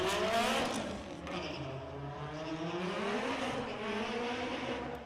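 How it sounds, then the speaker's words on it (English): A Vauxhall Astra making a drag racing run at Santa Pod Raceway, its engine loud and close as it revs up through rising gear pulls, dips briefly, then climbs again. "So it's going to be a solo run for the Vauxhall Astra"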